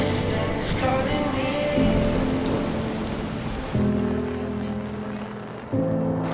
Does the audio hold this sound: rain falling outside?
yes